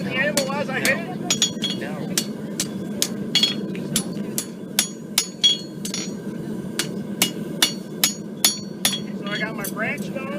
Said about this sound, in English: And you see how this just takes the shape of the anvil as I hit it?